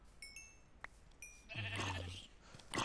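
A blocky sheep in the Minecraft video game gives a short bleat amid small game sound effects and chimes, fairly faint and with no talking.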